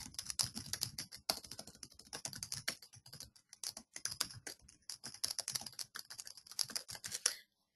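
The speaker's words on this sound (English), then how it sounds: "Typing in your note," Rapid clicking of keys on a computer keyboard as a note is typed, quick irregular bursts of taps with brief pauses, close and clear, ending in silence.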